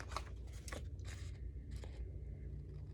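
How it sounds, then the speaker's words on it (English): Scissors snip through paper for a collage glue book, three or four quick crisp cuts close to the microphone over a low steady hum. "I'll just use scissors."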